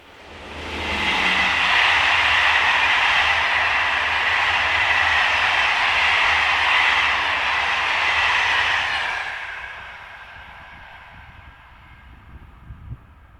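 A French SNCF BB 7200 electric locomotive, number 7223, passes on the Paris–Orléans line, a loud sustained rushing roar that swells and holds for several seconds, then cuts off sharply to quiet track-side ambience with faint knocks.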